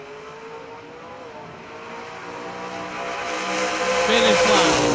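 Pickup trucks at a truck pull event, their engines droning and then revving harder, the sound rising steadily in loudness toward the end under an announcer's voice.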